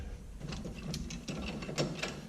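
C-clamp being tightened to compress the piston on a 2001 Chevy Silverado brake caliper, giving a steady mechanical grinding and ratcheting with repeated clicks, close and moderately loud.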